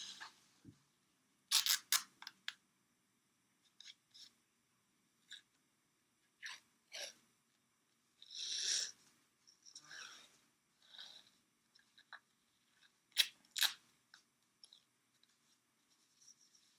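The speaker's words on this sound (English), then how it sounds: "Apply some pre-wrap to secure the 2 heel and lace pads in place" Pre-wrap being unrolled and applied around an ankle over heel and lace pads, soft crinkling and tearing rasps in short separate bursts with quiet gaps, close and faint.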